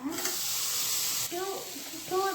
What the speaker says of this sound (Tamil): இந்த மாதிரி வெங்காயம் வதங்கினதுக்கு அப்புறமா பக்கத்தில் இருக்க தக்காளியை எடுத்து நான் அப்படியே போடுறேன்.